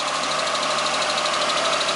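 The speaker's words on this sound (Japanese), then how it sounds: "アイドリングの方も安定しておりますね" A Suzuki Alto Turbo CA72V engine idling steadily, its even, rhythmic mechanical chatter continuous and close, with no voices over it.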